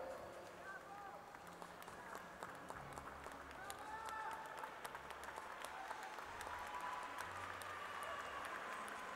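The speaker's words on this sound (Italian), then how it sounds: "È bello sentire gli applausi per le campionesse, i campioni, le varie discipline" Audience applause for champions at an outdoor closing sports award ceremony in Alassio, a steady, fairly distant patter of clapping running throughout, mixed with voices and low background hum.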